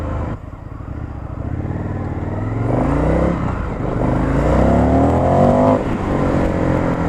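An Indian FTR 1200 motorcycle fitted with an Akrapovic exhaust accelerates hard, its engine note rising steadily through the revs in a loud, close, continuous roar with no talking.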